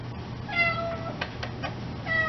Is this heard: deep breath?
no